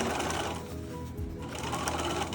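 Sewing machine stitching elastic and seams on a reusable cloth diaper, a steady continuous mechanical whir running close and fairly loud for the whole stretch, with only faint hints of voice beneath.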